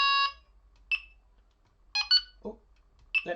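Short electronic beeps from a Delkim fishing bite alarm sound in separate bursts, some in quick pairs, with a lower warble among them, against an otherwise quiet background.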